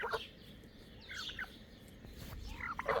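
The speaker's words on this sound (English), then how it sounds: "We got some chickens that are interested." Backyard chickens cluck and squawk in short, scattered bursts, a few calls spread over the moment. They sound fairly near against a quiet outdoor hush.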